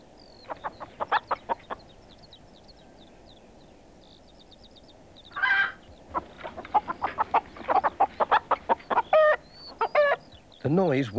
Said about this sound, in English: Mrs. Thompson's hens were wide awake